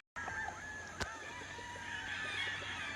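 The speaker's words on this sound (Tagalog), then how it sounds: "This is our personal Duke Halsey Gray broodcock" A Duke Halsey Grey broodcock rooster crows on a gamefowl farm in Bacolod, its drawn-out harmonic call sounding over other fowl clucking and calling in the background, with one sharp click partway through; no talking.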